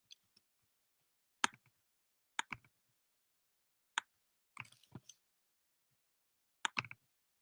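A computer mouse clicks through links in a handful of sharp, separate bursts, some single clicks and some quick doubles, spread across a quiet stretch with nothing else heard.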